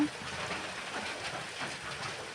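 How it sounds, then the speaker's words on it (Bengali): Heavy rain hissing steadily on surfaces, a dense continuous wash of sound at moderate level. "আমাদের বাড়ির এখানে বৃষ্টি হচ্ছে, প্রচুর বৃষ্টি হচ্ছে"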